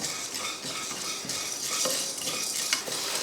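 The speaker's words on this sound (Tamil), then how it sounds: "அரிசி பருப்பெல்லாம் லைட்டாக வறுக்க ஆரம்பித்ததுமே கொஞ்சம் கருவேப்பிலையும் அது கூட சேர்த்து வறுத்துக்கலாம்" Rice, chana dal, urad dal and a handful of curry leaves dry-roast in a pan for homemade mutton masala powder, with continuous scraping and stirring, faint crackling and occasional sharper ticks of the spoon against the metal.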